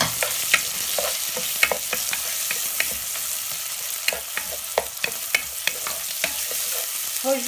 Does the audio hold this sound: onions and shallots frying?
yes